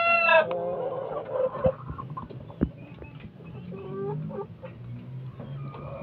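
Pet fighting roosters cluck while being fed, with a crowing call at the start, then scattered nearby clucks and soft scratching sounds on the ground.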